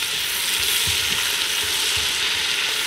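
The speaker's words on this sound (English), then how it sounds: "now that the bacon is just nicely spread out in the pan so it can brown a little bit and start to crisp up" Bacon fries with butter in a pan, a loud, continuous close-up sizzle with faint stirring bumps underneath.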